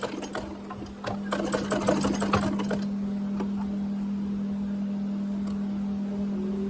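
A domestic sewing machine stitching fabric, a rapid mechanical whirring burst for about two seconds, then the motor hum continuing alone at a steady pitch, close and fairly quiet.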